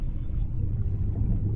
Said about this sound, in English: In the middle of a storm. In a big storm.